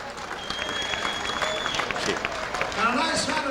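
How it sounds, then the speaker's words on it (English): Applause and crowd noise after a boxing match, a dense steady clapping from a large audience that carries on throughout while an announcer talks over it. "And a nice round of applause for Marion Jackhammer Wilson."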